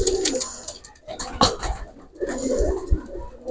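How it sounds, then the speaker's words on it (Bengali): Two Chinese Teddy pigeons coo in soft repeated calls close by, mixed with light fluttering and shuffling noises as they are let go. "তো ছেড়ে দেখাচ্ছি আমি দুইটা কবুতর"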